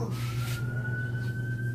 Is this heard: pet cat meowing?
no